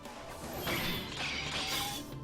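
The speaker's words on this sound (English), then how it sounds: "The sword smashes against the armor, shaves it off, letting off the lightning sparks" A sword smashing against armor as a visual novel sound effect, a sustained grinding crash with metallic ringing and crackling sparks, alone with no voices.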